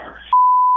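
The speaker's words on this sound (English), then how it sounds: "we'll beep that out." A single sharp censor beep, loud and steady, cuts in abruptly after a brief snatch of talk on a talk radio show and holds for about half a second.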